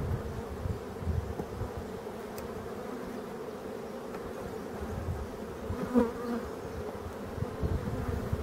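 Honey bees buzz steadily around an open beehive during the July chestnut and linden honey flow, a dense continuous hum close by with occasional louder individual passes, no talking.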